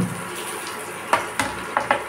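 Potatoes tipped into a pan of sizzling spiced soybean mixture: steady frying hiss punctuated by several sharp clattering splashes and stirring knocks as the pieces land, close and fairly loud.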